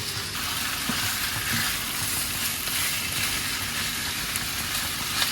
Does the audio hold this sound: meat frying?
yes